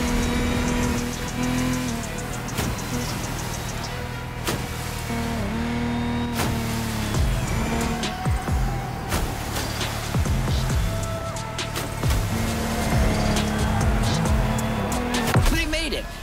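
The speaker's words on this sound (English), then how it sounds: "The contestants need to push their engines." Lamborghini Technomar powerboat engines race in The Crew Motorfest video game, a loud, continuous motor drone whose pitch rises and falls as the boats push on.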